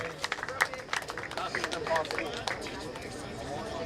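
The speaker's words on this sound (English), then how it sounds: "Give you guys a round of applause." Audience at a high school sober grad night magic show applauding, a burst of close, uneven clapping with scattered cheers that settles into a steady patter of hands.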